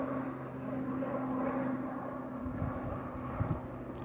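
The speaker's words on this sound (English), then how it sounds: "that's definitely one of the college's planes." A small college training airplane passes overhead with a steady, droning propeller-engine hum, moderately distant and fairly faint against outdoor background noise.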